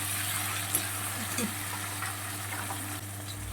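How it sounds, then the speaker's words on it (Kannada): Tomatoes sizzle steadily while frying in a pan for quick egg rice, a continuous close hiss with a few soft stirring scrapes and no talk. "ಫ್ರೈ ಆಗೋ ತನಕ ಬಿಡಿ ಒಂದು ಸ್ವಲ್ಪ ಹೊತ್ತು"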